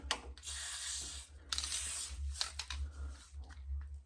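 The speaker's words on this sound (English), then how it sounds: "Spray everything down with some lithium." Short hissing bursts of white lithium grease aerosol spray on a 1972 Volkswagen Super Beetle hood release cable, several blasts in a row up close, with a low background hum and light clicks between them.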